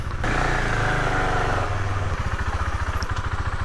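A new motorcycle's engine runs loud and close, a steady low throb that settles into a rhythmic idle pulse, with no talk over it.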